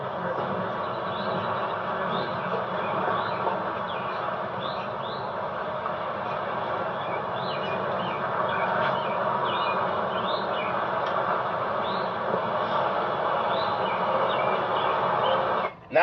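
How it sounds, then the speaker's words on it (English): Birds sing outdoors at Augusta National golf course: scattered high chirps and tweets come over a steady, loud, rushing background wash that runs through the whole stretch without a break. "Not only with the birds singing"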